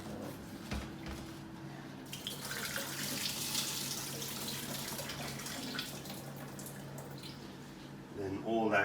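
Water running and splashing as washed vegetables are swirled and drained in a kitchen sink, a steady close wash of liquid noise lasting throughout with some clatter near the end.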